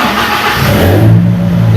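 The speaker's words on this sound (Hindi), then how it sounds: "ये हमारी गाड़ी भी स्टार्ट हो गई, बिल्कुल ओके है।" A 2008 Toyota Hilux engine, which had been cranking without starting because of an oxygen sensor wire touching the silencer, cranks and catches, then revs up loudly and settles into a steady, close running hum.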